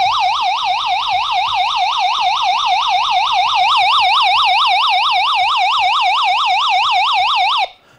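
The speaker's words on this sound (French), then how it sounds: "vous allez aussi avoir une sirène qui va retentir" An Infactory solar and dynamo FM DAB+ radio sounds its SOS emergency siren: a loud, rapid, continuous electronic warble that rises and falls steadily for about seven and a half seconds, then cuts off abruptly, with no talking.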